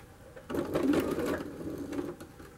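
A sewing machine stitches through slippery, gauzy layers of tulle while shortening a skirt, a steady close whirring run of about two seconds with a brief back-stitch change in pace.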